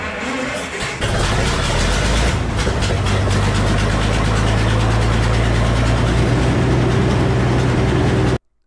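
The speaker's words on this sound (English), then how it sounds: "the IHC guy, is running the engine today" Old IHC engine powering a sawmill, a steady loud mechanical drone with a low, even hum that runs unbroken to the end.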